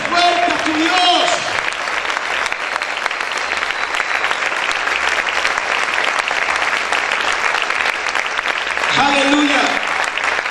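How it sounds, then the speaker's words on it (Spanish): A church congregation claps loudly and steadily for several seconds, dense and continuous, with a leader's voice speaking over it briefly at the beginning and end. "Aplaude fuerte a tu Dios."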